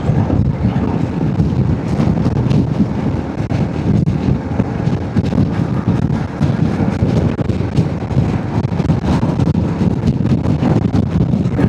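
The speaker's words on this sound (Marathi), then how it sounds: "वारा खूप आहे." Strong wind buffets the microphone in a constant, heavy rumble, roaring steadily without a break.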